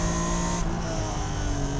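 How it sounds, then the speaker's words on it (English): A 1991 Acura NSX's V6 engine drones loud and steady from close range, with a strong, sustained tone and no break in the sound for the whole clip; no one speaks. "Hearing that V6 transition in the VTEC"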